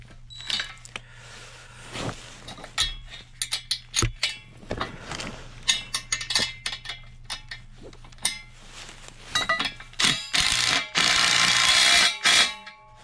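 Metal tools clink and ratchet in a series of sharp, irregular bursts while nuts and bolts are tightened on farm equipment, close up, with louder rapid clicking near the end.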